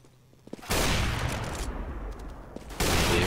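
Loud bursts of rapid gunfire in Counter-Strike on the map de_nuke erupt in two long volleys, with a brief quieter gap between them.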